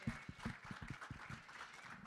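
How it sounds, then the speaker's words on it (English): Faint audience applause at a Toronto music talk event, a scattered patter of claps with a few sharper individual hits, quiet and somewhat distant. "Let's give them both a round of applause"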